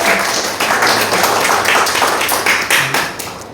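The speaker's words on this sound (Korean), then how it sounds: "주님께 우리가 영광의 박수를 한번 보냅시다." Church congregation clapping together in glory to God during a Korean-language worship service, a steady dense patter of many hands filling the room, continuous and fairly loud with no pause.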